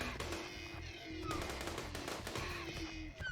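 Heavy SMG fire in the RimWorld video game, rapid overlapping bursts of small arms shots rattling continuously at moderate loudness, mixed with other game effects.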